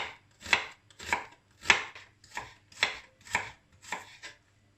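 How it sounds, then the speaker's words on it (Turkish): A knife chopping an onion on a cutting board, six firm, evenly spaced strokes about half a second apart, close and clear with no talking. "Soğanımı şöyle piyazlık olacak şekilde doğruyorum."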